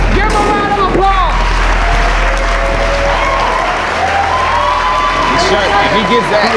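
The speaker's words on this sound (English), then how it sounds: "Give him a round of applause." A loud crowd at a dunk contest finale roars with cheering and applause after a dunk, a dense, continuous swell of shouts and clapping that never lets up.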